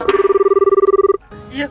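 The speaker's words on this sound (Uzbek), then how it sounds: "Xotin telefon qilibdi." A telephone rings loudly and close with an incoming call, one steady pulsing ring about a second long that cuts off, followed by a brief faint sound.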